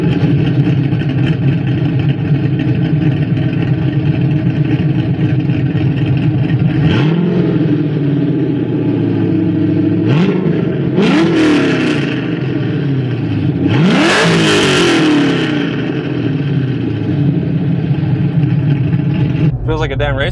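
A Mazda RX-7 with a swapped LS V8 engine idles with a deep rumble, then revs up sharply several times in rising bursts while driving, heard from close by with some wind noise.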